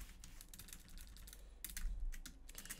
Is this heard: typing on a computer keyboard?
yes